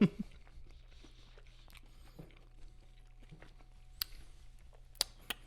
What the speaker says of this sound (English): Nothing like chewing chicken nuggets right into a microphone